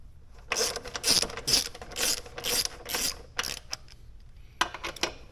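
A ratchet clicks in quick, loud bursts while bolts are snugged up on an Indian Scout motorcycle, several close-up runs of rapid pawl clicks with short pauses between.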